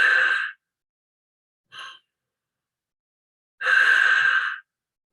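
Forceful "cannon breath" exhales pushed out through O-shaped lips during a morning mindfulness breathing exercise: two long, loud, breathy blows with a short, softer puff between them, separated by silence.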